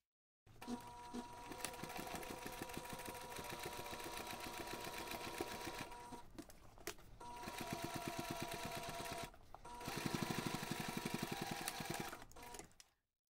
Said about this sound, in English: Then you can take this to the machine and top stitch along that finished seam